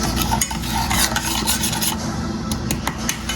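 Hot chocolate mixture stirred in a pan on a gas stove, a steady scraping and swirling rasp with faint sizzling, close and continuous with no talk.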